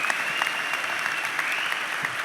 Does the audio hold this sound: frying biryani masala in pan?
no